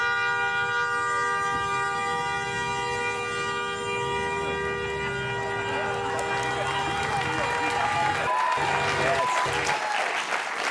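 Applause breaks out amid a traffic-stunt street scene, a sustained clatter of clapping layered over steady droning tones and horn-like blares, with scattered voices and movement near the end.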